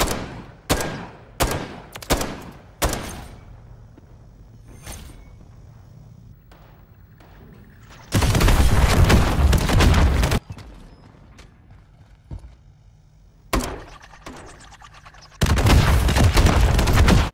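Gunfire in Modern Warfare III, a first-person shooter, on the Departures map: several sharp separate shots early on, then two long loud sustained bursts of automatic fire with a few single shots between them.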